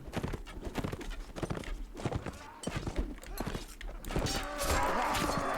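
Horse hooves clip-clop in the Mount & Blade Warband video game during a battle, quick uneven hoofbeats with clashing noises and a rising din of combat toward the end.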